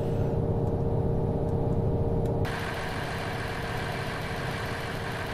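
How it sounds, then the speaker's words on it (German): A locomotive engine runs at high revs in the engine room in Train Simulator 2015, a dense continuous mechanical roar whose tone shifts abruptly midway, staying loud throughout without speech. "ich wollte mal ganz kurz in den Maschinenraum und gucken, wie sich jetzt der Motor anhört, wenn er so auf Hochtouren läuft"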